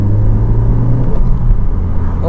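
A Honda Civic hums along with a low, steady engine rumble heard from inside the cabin as it pulls out and turns, the drone close and constant.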